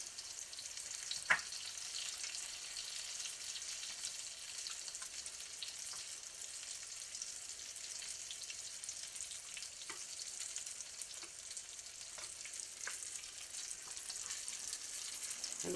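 Crusted tomato slices frying in a pan, Italian style, a soft, steady sizzle with scattered crackles and a brief clink, quiet and continuous with no voices.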